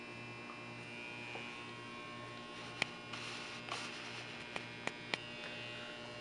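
An electric hair clipper buzzes steadily through a brush cut, a faint, even hum with occasional small clicks close by.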